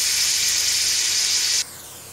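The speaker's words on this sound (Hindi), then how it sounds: "इसी ऑयल में हम दूसरा प्याज भी फ्राई कर लेते हैं।" Onion fries in hot oil with a loud, close sizzling hiss that drops suddenly to a quieter simmer near the end.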